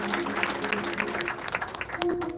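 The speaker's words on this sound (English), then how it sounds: "Let's clap for him again." Audience at a public event applauding, a dense continuous patter of many hands clapping at moderate distance, with a faint voice and tonal hum underneath.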